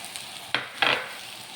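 Grated coconut goes into roasting banana in a pan, two brief scraping stirs over a soft steady sizzle, close and alone with no voices.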